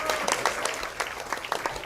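Scattered applause from a talk-show audience, a loose patter of uneven claps with a few brief voices mixed in, moderately close and fairly quiet.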